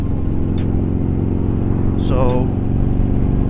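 A 2020 Harley-Davidson Road Glide S cruises along on a road, its engine a steady, loud drone with wind rush throughout, while a rider speaks briefly over it.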